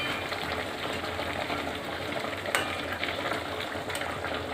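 Bhetki fish is mixed into a simmering gravy for malaikari, giving a continuous soft bubbling sizzle with faint scraping stirs and a couple of light clinks, fairly quiet and without voices.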